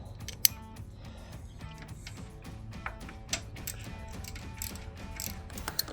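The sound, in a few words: ratchet with 10mm socket removing radiator bolts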